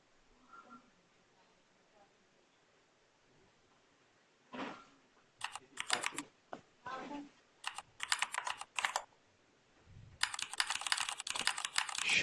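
Typing on a computer keyboard comes in close bursts of quick clicky keystrokes separated by pauses, with a short stretch of quiet talk between them.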